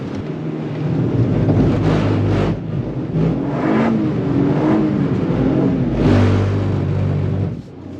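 Toyota GR Yaris drifting with traction control switched off, a loud continuous engine drone with rising and falling revs and tire rumble, buffeted by steady wind noise throughout.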